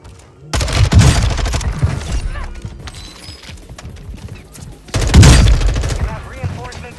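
Gunfire in a Call of Duty match on Ashika Island, two loud dense bursts of rapid shots about four seconds apart over busy game noise and quieter effects.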